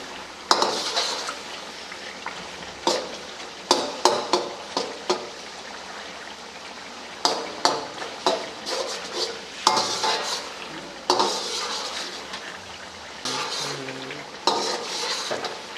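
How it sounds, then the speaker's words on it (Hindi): Chicken charsi karahi with tomatoes being stirred in a frying pot: repeated loud scraping and clattering strokes of a spoon against metal over a low sizzle, in bursts with short pauses. "ऐसे ऐसे करते रहना है ताकि टमाटर जो हैं वो मिक्स हो जाएं।"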